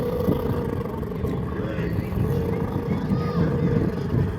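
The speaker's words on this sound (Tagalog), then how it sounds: "Palyado yung makina nito" A misfiring boat engine during a boat race event drones with a loud, rough, uneven rumble that runs throughout, close by, with a murmur of voices in the background.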